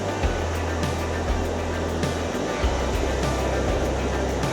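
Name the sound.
ocean waves at the beach in Freeport, Texas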